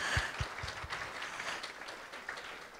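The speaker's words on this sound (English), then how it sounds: "Give the man a round of applause." Applause at a 90th birthday celebration for a pastor, a steady wash of crowd clapping with a few distinct louder claps at the start, moderately distant and sustained.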